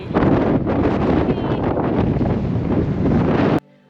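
Strong wind buffets the microphone in a loud, steady roar for several seconds at Versailles, then cuts off abruptly into near silence.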